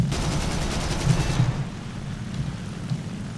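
Aircraft machine guns rattle in War Thunder as a Spitfire is shot down, with a dense, rapid burst of fire for about a second and a half, then a fading rumble of engine and wind.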